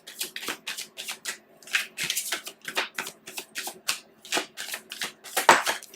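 Line Strider tarot cards being shuffled by hand, a close, crisp run of repeated riffling bursts in a steady rhythm with short pauses between them.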